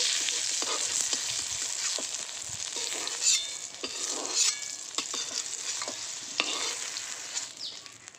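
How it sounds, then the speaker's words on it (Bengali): Pointed gourd pieces fry in oil in a wok with a steady, even sizzle, broken by occasional scraping stirs and light clinks of the spatula, with no talk. "পটলগুলো খুব ভালো করে ভেজে নিলাম, এবার তুলে নেব।"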